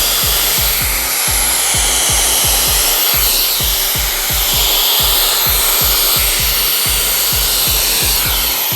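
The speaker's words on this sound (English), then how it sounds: "As I'm blow drying, I do feel like it's suctioning my hair a little bit" Shark hair dryer blowing hair dry, a loud continuous whooshing airflow with a rapid rhythmic fluttering thump as the nozzle works through the hair, close and steady throughout.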